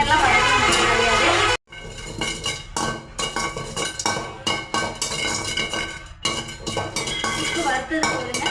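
Dry ginger being dry-roasted for biryani masala is stirred in a metal pan, giving loud close rhythmic scraping and clattering of a utensil against the pan that runs steadily throughout.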